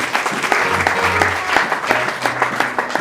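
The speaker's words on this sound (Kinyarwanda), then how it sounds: "Dukomere Imana yacu amashyi." A church congregation bursts into lively clapping in praise of God, dense rhythmic applause filling the room over sustained musical tones, with a voice briefly audible beneath.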